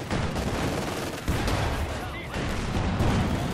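An anti-tank gun firing in a Company of Heroes 2 battle, heavy booming shots set in a thick wash of battlefield gunfire and explosions, with a sharp report near the middle and constant loud combat noise.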